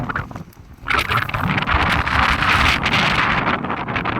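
Strong wind buffets the microphone in a loud, continuous rush, gusting after a quieter opening moment.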